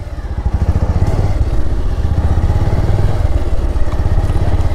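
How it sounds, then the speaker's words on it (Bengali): A motorcycle engine thumps in a close, rapid rhythm while the bike is being parked at a roadside stop during a monsoon ride in Odisha, loud and steady throughout. "বাইকটা এখানে রেখে দিয়ে যাই।"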